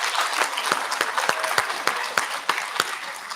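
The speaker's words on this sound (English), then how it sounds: "Round of applause for her." A round of applause from a college induction audience: steady crowd clapping with a few louder individual claps standing out, lasting a few seconds.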